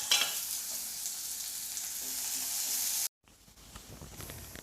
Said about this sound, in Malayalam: ചെറിയ ഉള്ളി ഇതേമാതിരി ചെറുതാക്കി നുറുക്കിയത് ഒന്ന് മൂപ്പിച്ചെടുക്കാം